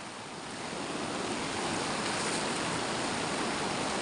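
A steady, full rush of flowing water fills the whole clip, a constant broadband roar with no voices and no pauses.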